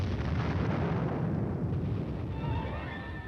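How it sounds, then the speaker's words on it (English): Artillery air bursts in a 1957 army training exercise on an armored battlefield, with a dense, continuous low rumble of distant booms that fades slightly toward the end and has no talk over it. "Under the cover of continued artillery air bursts, the team advances."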